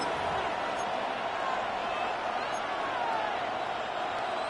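A football stadium crowd roars in a steady, dense wall of cheering before a third-and-goal play, constant and loud, with a commentator's voice faintly underneath.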